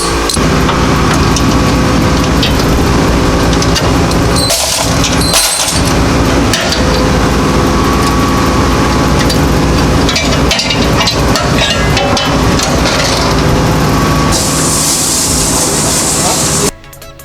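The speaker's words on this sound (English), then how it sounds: "Valves in the tumbler." Engine valves from a 2004 Chevy Avalanche 5.3 Vortec V8 tumble in a machine shop parts tumbler, a loud continuous metallic rattle and clatter with a few sharper knocks, ending abruptly near the close.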